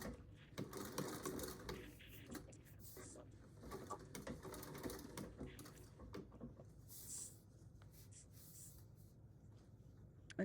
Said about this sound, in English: I guess this is called a coffin treadle machine